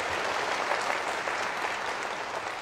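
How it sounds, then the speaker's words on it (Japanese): Crowd applause breaking out during a pro wrestling tag team match at Kawasaki, a thick, continuous wash of clapping from a large audience, fairly loud and steady throughout the short stretch. "これには拍手が巻き起こる。"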